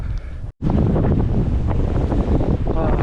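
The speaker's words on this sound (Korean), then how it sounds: "오늘도 어제처럼 바람이 좀 많이 불고 있습니다" Strong coastal wind on a seaside walking trail in Yeonggwang, near a wind farm, roars across the microphone as a loud, continuous rumble, broken only by a brief dropout near the start.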